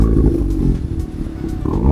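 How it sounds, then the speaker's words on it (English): Remus exhaust with polished silver tips on a VW Golf R Mk7/Mk7.5 revving, a deep loud roar that swells, dips slightly mid-way, then builds again, alone without talk. "the Remus exhaust system has been fitted to the car"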